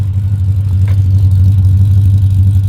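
A big LS V8 truck engine runs steadily close by with a deep, loud, throbbing rumble, holding an even idle throughout.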